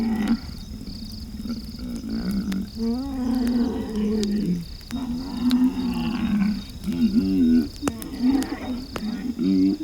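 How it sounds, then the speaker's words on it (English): Lion roaring at night near a safari camp in Tanzania's Ruaha area, a deep, drawn-out call repeating over steady crickets and frogs, mid-distance and fairly loud. "at least until a lion began to roar nearby"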